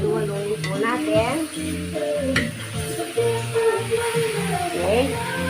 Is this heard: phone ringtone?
no